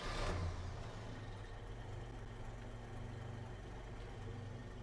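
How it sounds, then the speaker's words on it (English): A 1965 Chevrolet C10 pickup's engine starting cold with a brief loud burst, then settling into a steady, smooth low idle. "we're going to do a little cold start for you here, and to show you how balanced and how good this motor is"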